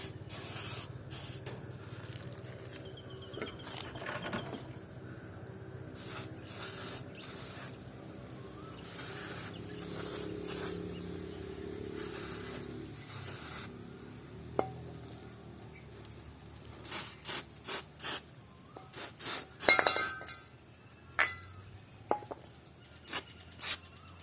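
Contact cleaner sprayed onto the chain joint of an electric bike, a long close hiss of aerosol that breaks into a string of short spray bursts toward the end.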